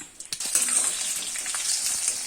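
Gooseberries sautéing in hot oil with mustard seeds and curry leaves for a roast gooseberry pickle, giving a steady close hiss and sizzle with a few small pops and scrapes, and no talking.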